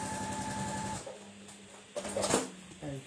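A sewing machine stitches across fabric for a mini double-star quilt, running in a steady, quiet mechanical whir for about a second before stopping, followed by soft handling clicks and rustles.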